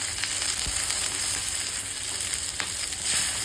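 Okra frying in a pan with red chili powder and coriander powder gives a steady, close sizzle with faint stirring clicks throughout.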